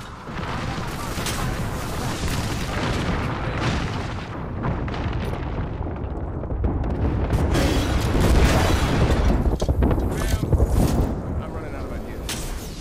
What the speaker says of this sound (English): Class 3, missile off the rails.